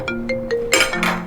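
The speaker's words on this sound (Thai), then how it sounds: "โทรศัพท์" A phone ringtone plays a quick melodic run of bright electronic tones, loud and close, during a scene in a Thai drama.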